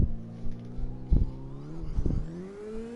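A car engine in the racing video game CarX Drift Racing revving up and down in steady rising and falling sweeps, moderately loud, with no talking.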